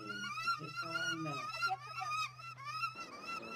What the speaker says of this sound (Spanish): Espera, los dos pájaros reales.